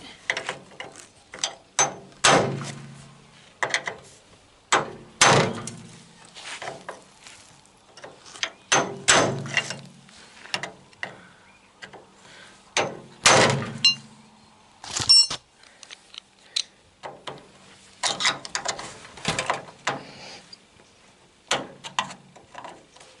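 Metal tapping on a screw in a door of a Citroën Traction 11B to loosen it: sharp irregular knocks and clinks with ratcheting metallic rattles, close, in bursts with short pauses, no talking.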